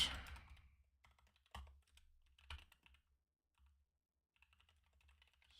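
Keystrokes on a low-profile computer keyboard, typed in irregular bursts of soft clicks with brief pauses and a louder clack or two, close and alone with no talking.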